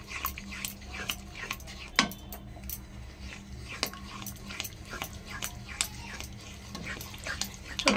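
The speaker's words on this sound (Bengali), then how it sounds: "দইয়ের পেস্টটা দিয়ে না একবার নাড়তে থাকতে হবে" A yogurt paste is stirred into a cooking masala, a spoon scraping and tapping a pan in quick irregular strokes, close but fairly soft, with a faint dog bark and background clatter.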